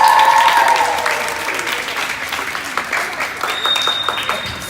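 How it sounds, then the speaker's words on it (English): Camp participants in Beirut give themselves a round of applause, a loud, sustained patter of many hands clapping that eases off gradually toward the end. "you should give a round of applause for yourselves"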